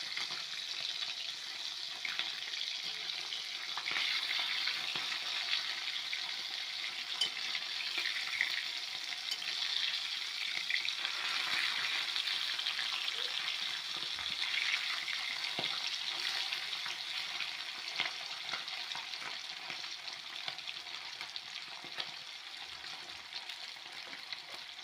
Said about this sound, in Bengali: এই দেখুন মাছগুলো লাল লাল করে ভাজা হয়ে গেছে।